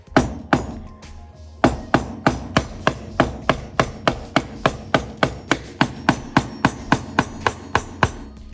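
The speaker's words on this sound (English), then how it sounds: "I can then take my mallet and strike down on the chisel." A mallet strikes a chisel driven vertically into wood, cutting out waste while making a mobile device stand. Close and loud, a few opening blows give way to a steady run of about twenty sharp, evenly spaced knocks, with no talking.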